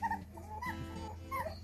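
A Phu Quoc Ridgeback dog whimpers and yips in soft, high, wavering cries over a steady low background hum, fairly faint and close.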